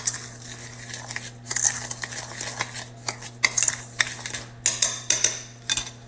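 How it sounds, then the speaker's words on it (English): A utensil stirs a cinnamon mixture in a bowl for elephant ear cookies, giving repeated clinking and scraping strokes at a steady, uneven rhythm, close and moderately loud, with no talking. "And now we're going to stir it together."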